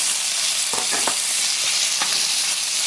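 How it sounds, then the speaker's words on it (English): Beef and onions frying in a pan for Vietnamese crispy chow mein, a loud steady hissing sizzle with a few soft stirring scrapes, close and continuous without talk. "go ahead and add your meat. And I'm going to add my onions in as well"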